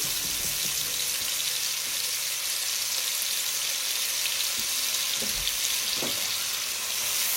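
Diced yellow onion frying in bacon fat and butter in a soup pot, a steady broad hiss of sizzling that holds evenly throughout with faint scrapes, no voices.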